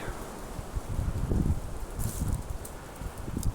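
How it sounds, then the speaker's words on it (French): Strong wind blowing outdoors on a walking route, a loud, gusty low rumble buffeting the microphone, with rustling leaves and a brief higher hiss partway through. "Il y a beaucoup de vent."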